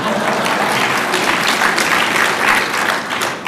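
A large audience claps loudly and steadily throughout, a dense, continuous wash of applause.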